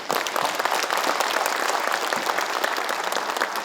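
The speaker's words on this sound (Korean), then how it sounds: "우리 이순삼 우리 사모님, 여사님 함께 하셨는데 우리 박수 한번 부탁드리겠습니다." Sustained applause from a large audience at a Daegu city New Year greeting ceremony, dense and steady throughout with no voices rising above it.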